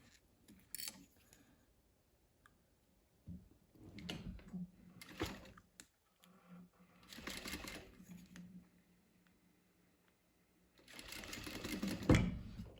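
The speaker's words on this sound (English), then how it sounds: "I'm just going to sew it right 1/8 inch in." A sewing machine stitches a fabric laptop sleeve about 1/8 inch from the edge, running in several short whirring bursts separated by quiet pauses, with faint handling noises between.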